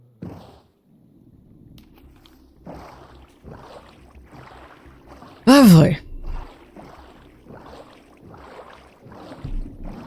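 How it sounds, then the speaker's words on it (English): Paddling a small boat across water in Minecraft, with rhythmic splashing strokes repeating roughly every second, plus one loud sweeping burst midway and a brief voice speaking. "Back in the boat."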